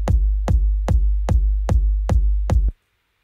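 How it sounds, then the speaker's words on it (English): A looping one-bar kick drum built from three layered samples: six punchy, deep, evenly spaced thumps at a steady tempo, loud and alone, with the loop stopping abruptly near the end. "I'm going to loop this one bar of the kick drum."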